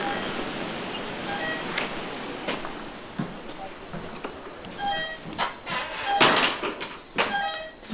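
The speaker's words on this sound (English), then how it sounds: "you can hear the alarm beeping" Repeated short electronic beeps from a door alarm inside a whalers cabin, sounding at intervals over faint background noise and occasional clatter.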